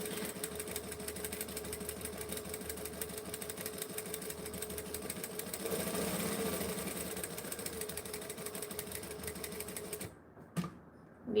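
A domestic sewing machine runs continuously, stitching through fabric with a fast mechanical chatter that swells briefly midway, then stops abruptly before a short final burst; no talking.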